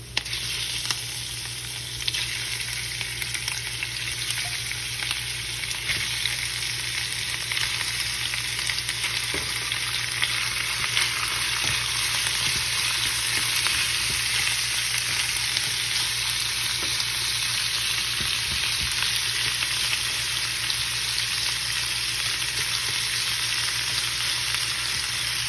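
Pork browning for adobo in a pan over medium heat, a loud, dense, continuous sizzle and crackle of frying close up, steady throughout with no voices.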